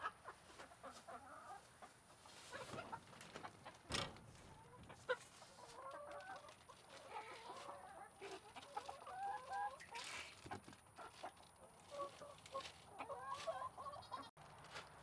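Backyard chickens cluck steadily and close by, with repeated short calls rising and falling across the whole stretch and no voices over them.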